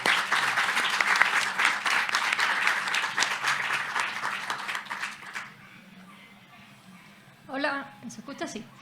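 Audience applause greets the guests of a science panel on climate change, dense and steady for about five seconds before fading, followed by a voice speaking near the end.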